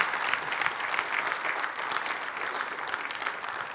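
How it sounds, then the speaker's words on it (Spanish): A church congregation claps steadily and fairly close, a short burst of dense applause with no talking over it. "Denle un fuerte aplauso, por favor."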